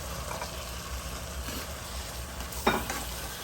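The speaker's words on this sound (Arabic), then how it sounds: "هبتدي انزل الهون بالسجق" Sausage being added to onions and peppers that are already frying in a pan, giving a steady close sizzle with a brief louder clatter near the end.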